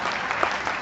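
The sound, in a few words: audience applause during a song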